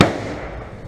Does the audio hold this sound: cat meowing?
no